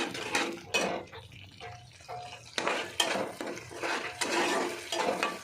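Pabda fish curry masala being stirred and sautéed in a pan, with repeated scraping strokes of a spatula against metal, light clinks and a soft sizzle underneath, fairly close and moderately loud.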